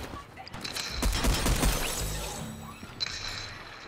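Gunfire in the battle royale game Fortnite, a quick cluster of sharp shots with crackling impacts near the middle, followed by fainter mechanical game sounds.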